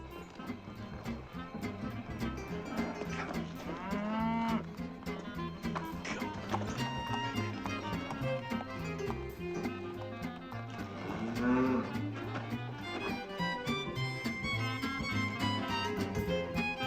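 A temperamental cow lets out a couple of drawn-out moos, partly buried under a continuous orchestral film score.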